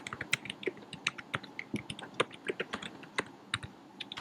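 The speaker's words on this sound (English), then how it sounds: "Somebody's typing." Someone types on a computer keyboard, with quick irregular clicks and taps in uneven bursts at moderate distance and no talking.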